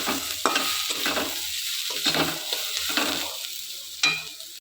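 Potato pieces fry in a pan for flattened rice pulao while a spatula stirs them, with a steady close sizzle broken by regular scraping strokes every second or so.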